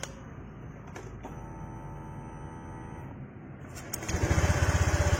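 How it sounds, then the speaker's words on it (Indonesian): A Honda Vario 125 FI scooter with a sputtering, hesitant fault is cranked by the starter, then catches and idles with a loud, rapid, even chugging near the end. "Kita nyalain motornya ya."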